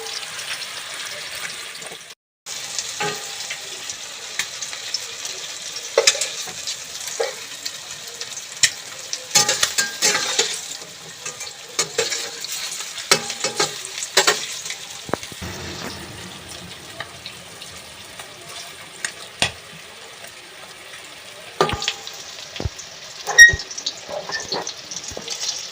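Flour (atta) fries and is stirred in a hot pan, a continuous close sizzle broken by repeated scraping and clattering strokes of the spoon. The stirring sounds come at an uneven rhythm, with no voices.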